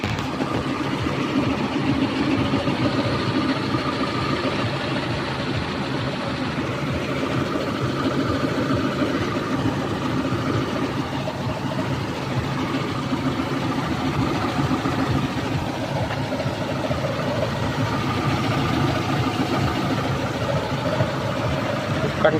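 A Daihatsu Feroza Megatop engine idles smoothly and steadily nearby, a constant even hum with no revving or other sounds for the whole stretch.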